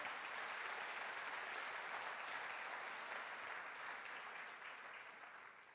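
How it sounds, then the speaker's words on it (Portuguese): A church congregation applauds the Lord in a steady, dense wash of clapping that fills the room and fades slightly toward the end, with no voices standing out. "Aplauda ao Senhor"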